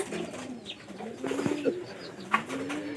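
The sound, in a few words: pigeons cooing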